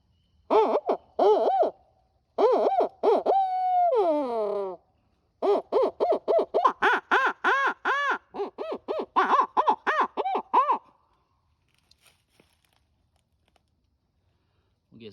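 Owl hooting imitated on a Brute Hoot Caterwauler owl call, loud and close: several short hoot bursts, a long drawn wavering note, then a fast run of rhythmic caterwauling hoots before falling silent.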